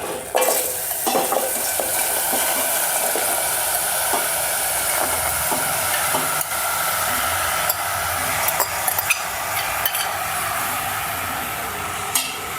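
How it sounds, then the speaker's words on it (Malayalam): Pineapple pieces cook in a pan, likely a chatti, for pineapple pachadi, giving a steady close sizzle with the scrape and clatter of stirring throughout and no talking. "നമുക്കിതിലേക്ക് പൈനാപ്പിൾ ഇട്ട് കൊടുക്കാം"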